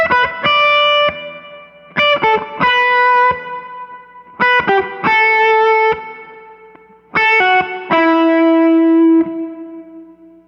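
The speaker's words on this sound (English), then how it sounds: "the sound will go through the overdrive pedal, become distorted, and then that distorted sound will be echoed" An electric guitar runs through an overdrive pedal into an echo, playing distorted chord stabs and notes in repeated phrases. Each phrase trails off in echoing repeats between bursts, with no talking.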